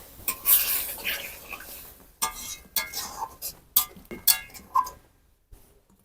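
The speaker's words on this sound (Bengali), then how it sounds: "এবার সামান্য পরিমাণ জল দিয়ে মশলাটাকে ভালোভাবে কষিয়ে নেব" A spoon stirring and sautéing ground spice paste with a little water in a metal pan for a fish tel jhal, with irregular scraping clinks and knocks against the pan, close and sharp, then a faint sizzle and quiet towards the end.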